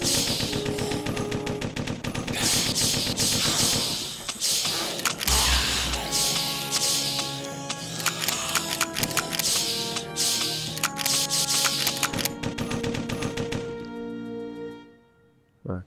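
Continuous gameplay gunfire in Corpse Killer 25th Anniversary Edition on Nintendo Switch, with dense repeated shots, mechanical clicks and game sounds layered throughout, loud and steady before fading at the end.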